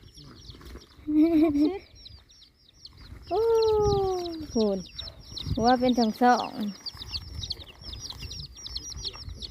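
Chickens on a farm cluck and squawk in several close, loud calls, with busy bird chatter in the background and people talking over them.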